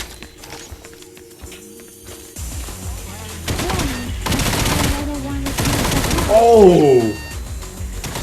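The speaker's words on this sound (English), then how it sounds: "Give me a machine gun, I want to use it." Machine gun fire in a stealth VR shooter on Oculus Quest rattles in loud bursts alongside in-game impacts and effects, while a player briefly exclaims over the noise and a synthetic warbling tone rises near the end.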